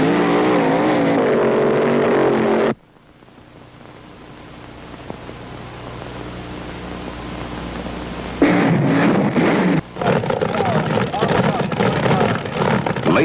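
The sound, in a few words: front engine dragsters racing a quarter mile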